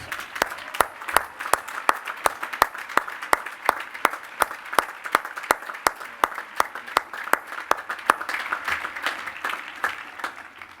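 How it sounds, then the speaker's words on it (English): A commencement audience applauds retiring university staff at Washington and Lee University, many hands clapping at a brisk, even rhythm with sharp individual claps standing out over the crowd's steady patter, fairly distant and sustained. "Let's give them a round of applause."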